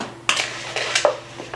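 Sweet potato wedges tossed with oil in a bowl for baking, giving a few short clattering, scraping bursts of movement close by, with brief quiet gaps between.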